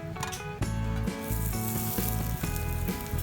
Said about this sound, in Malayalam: അത് ഒരു ഫ്രൈങ് പാനിൽ ഒരല്പം എണ്ണയെന്ന് ഒഴിച്ചിട്ട് ഒന്ന് ഫ്രൈ ചെയ്തെടുക്കണം